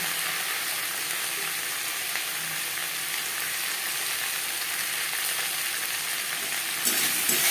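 Steady, bright sizzling of potato and aubergine frying in a little oil for hilsa curry, with faint stirring and constant hiss that jumps briefly louder near the end.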